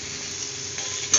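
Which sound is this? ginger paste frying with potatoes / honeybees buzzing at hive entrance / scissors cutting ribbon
ginger paste frying with potatoes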